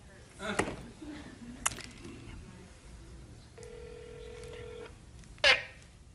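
A phone call connecting to voicemail: a short electronic tone, then a steady ringback-like tone for about a second, with faint voices and clicks around it.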